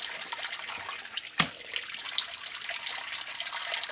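Cold tap water running steadily into a sink while wool socks are rinsed, a continuous close hiss of flow with a brief splash or knock partway through.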